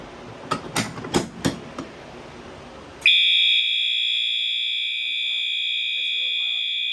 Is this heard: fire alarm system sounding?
yes